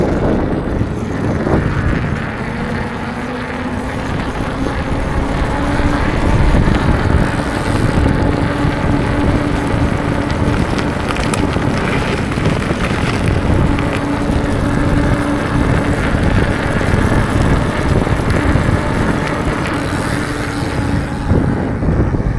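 E-bike tires with a TSDZ8 mid-drive motor roll steadily on pavement at around 16 mph, giving a continuous loud rumble mixed with wind buffeting over the microphone throughout the ride, with no talking.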